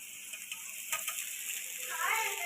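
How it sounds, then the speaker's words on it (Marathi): Soaked poha dropped into a hot pan with oil and roasted peas, giving a quiet, steady sizzle with a few soft scraping and stirring touches that rise a little near the end. "आता आपण त्याच्यामध्ये भिजवलेले पोहे टाकून घेऊया"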